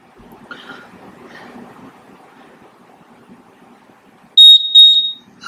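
A workout interval timer gives two loud, sharp electronic beeps close by near the end, after several seconds of quiet background murmur.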